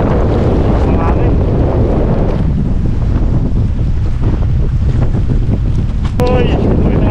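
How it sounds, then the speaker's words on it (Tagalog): Strong wind roars steadily across a boat at sea in heavy rain, with loud continuous buffeting and rushing water throughout, and a brief faint shout near the end. "Ang hangin."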